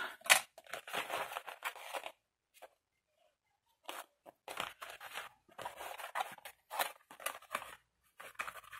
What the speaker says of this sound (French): On coupe le surplus.